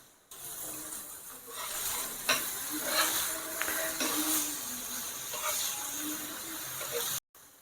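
Paneer pieces roasting on a hot pan as a curry dish is prepared, giving a steady close sizzle with occasional stirring and scraping clinks, continuous for several seconds before it cuts off abruptly.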